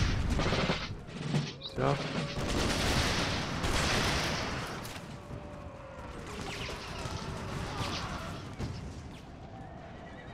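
Volleys of musket fire crackle densely through an Empire Total War battle, overlapping with horses whinnying and battle noise. Someone speaks briefly over the din.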